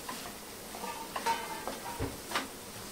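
Paneer bhurji being stirred in a pan, with soft scraping and clinking of a spoon against metal in a few uneven strokes over a faint low sizzle, fairly quiet and close.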